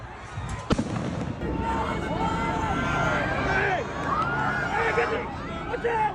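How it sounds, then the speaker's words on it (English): Fireworks shot into a protest encampment, a sharp bang near the start followed by whistling, popping bursts over a continuous crowd babble of voices and shouts. "Here we can see Zionists shooting off fireworks into the encampments."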